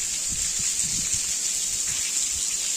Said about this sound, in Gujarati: તો ધમાકેદાર એન્ટ્રી વરસાદની, અને જોરદાર પવન સાથે